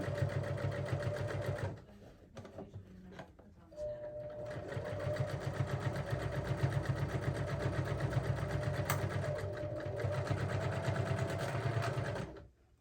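Sewing machine top stitching at a 3.0 stitch length on a sewn bag, a steady close mechanical whir with rapid needle rhythm that pauses briefly near two seconds, then runs continuously until stopping at the end.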